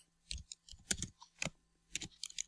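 Soft, close computer keyboard typing in a handful of irregular key clicks and small clusters, with quiet gaps between them and no talk.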